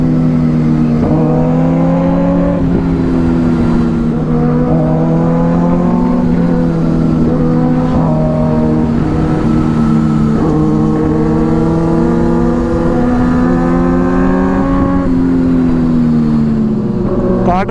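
A Kawasaki ZX6R sport bike climbs a hill road, its raw exhaust droning loud and close, with the engine pitch rising and falling through repeated revs and gear changes and a steady whine throughout.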